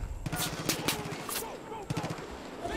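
Rapid gunfire in Far Cry 5 from a hard-kicking weapon, quick bursts of sharp cracks at close range, with a voice talking over the shots.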